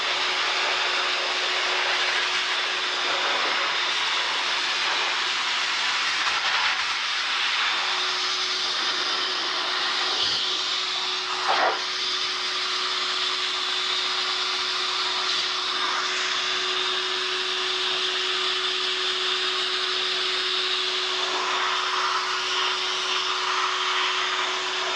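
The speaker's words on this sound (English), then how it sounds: "I'm gonna grab the blower." A leaf blower roars steadily and loudly at close range while drying freshly cleaned tires, its whine holding level throughout with only slight shifts as the airflow moves.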